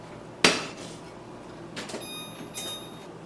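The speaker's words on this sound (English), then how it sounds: "I'm going to take this and put it on the stove and bring it to a boil" A small pot is set down on the stove with one sharp metallic clank, followed by softer knocks and a faint ringing scrape in an otherwise quiet kitchen.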